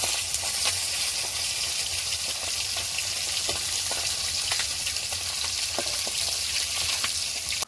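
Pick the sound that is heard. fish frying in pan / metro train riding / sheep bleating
fish frying in pan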